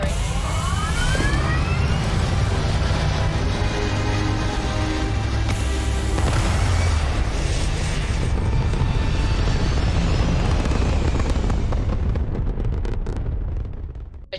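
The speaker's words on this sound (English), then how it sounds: "All thrusters firing." Spaceship thrusters fire for takeoff in the Starfield video game, a loud, sustained rumbling roar with hissing blast layers that holds for over ten seconds before fading out.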